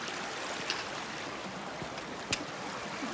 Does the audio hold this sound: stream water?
yes